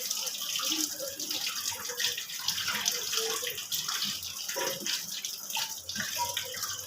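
Tap water runs steadily into a sink while pieces of katla and hilsa fish are rinsed, making a continuous close splashing hiss with slight shifts as the fish moves under the stream.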